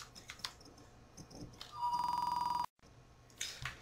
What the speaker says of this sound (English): That is a phone.